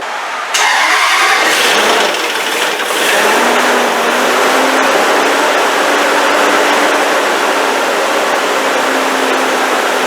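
A 2007 Range Rover 4.2 Supercharged with a freshly replaced head gasket cranks and fires, then settles into a steady, loud idle with a constant low drone and a hint of supercharger whine throughout.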